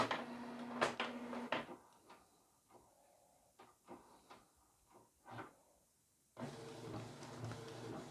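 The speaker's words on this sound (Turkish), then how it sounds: "Normal A4 kağıda baskı yapıyoruz. Color'a bastım. Renkli fotokopimi verecek." A Canon colour printer making an A4 colour copy: mechanical clunks and whirring feed motions, sharp clicks and thumps in a quiet stretch, then a steady louder running hum, close by.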